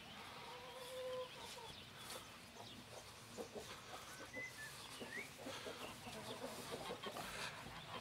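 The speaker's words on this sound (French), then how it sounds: "Donc là, les poules m'attendent avec impatience." Hens cluck softly and intermittently nearby, with a few sharper calls rising over a quiet outdoor background.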